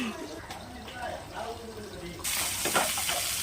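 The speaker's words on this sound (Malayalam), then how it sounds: "മീൻ ഫ്രൈ ചെയ്യാണ്" Fish frying in a pan, a soft sizzle that turns louder and brighter partway through, with a voice talking over it.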